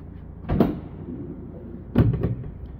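Back doors of a 2016 Renault Trafic short-wheelbase high-roof van being opened, giving two separate close metallic clunks of latch and hinge about a second and a half apart, with nothing else heard.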